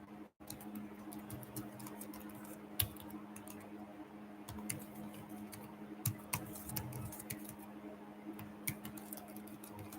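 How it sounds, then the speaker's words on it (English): Computer keyboard typing in a quiet room: irregular, fairly faint key clicks and clacks tapping away steadily for the whole stretch, with no talking. "Hope you can hear my keyboard clanking like pam pam pam."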